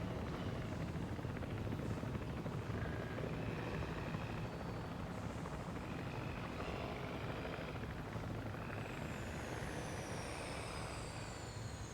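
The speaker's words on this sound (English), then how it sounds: "Please report for dig site selection as the helicopter is standing by." Helicopter in the Jurassic World video game, a steady loud rotor drone with rumbling thump held for the whole stretch, joined late by faint rising whistle tones.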